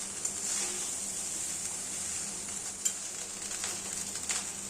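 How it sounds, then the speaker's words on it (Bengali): Special mixed fried rice stirred in a pan on low heat, giving a steady soft sizzle with faint scrapes of the spatula and no voices. "হালকা আঁচে মিনিট দুয়েক আমরা সমস্ত উপকরণ একসাথে নাড়াচাড়া করে নেব।"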